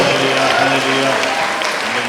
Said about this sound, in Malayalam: കൈയടിച്ച് സ്വീകരിച്ചോ